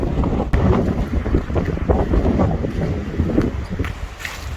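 Strong winter wind buffets the microphone in a steady low roar at an exposed park in Halifax, Canada, with gusty rumbling bursts throughout and no voices.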